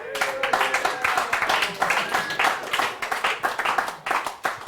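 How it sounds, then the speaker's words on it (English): A comedy club audience at the Gotham Comedy Club claps in a fairly thin, scattered round of applause, individual hand claps audible and close, holding steady for several seconds. "Thank you for your pity applause."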